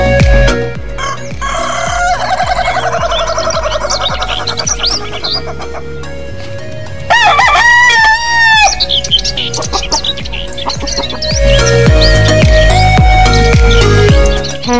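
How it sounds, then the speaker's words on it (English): A rooster crows loudly and close in a farmyard, with several drawn-out cock-a-doodle-doo calls among clucking fowl and other bird chirps. "Rooster."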